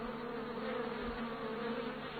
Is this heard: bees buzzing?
yes